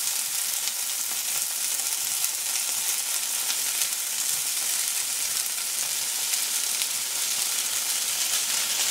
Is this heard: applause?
no